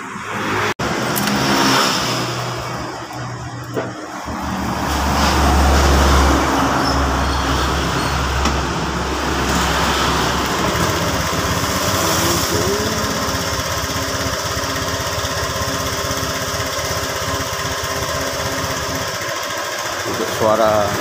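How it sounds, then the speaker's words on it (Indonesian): A Honda Vario 125 FI scooter with a rough-running engine that emits white smoke and drips water rides along a busy road, its engine droning loudly and continuously amid heavy surrounding traffic noise. "Suara mesinnya juga kasar sekali. Jalannya ramai sekali."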